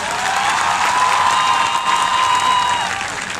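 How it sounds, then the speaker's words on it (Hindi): Audience applause for student speakers at a poetry gathering, a steady dense clapping wash with some crowd noise, sustained loudly throughout. "एक दफा उनके लिए भरपूर तालियां होनी चाहिए"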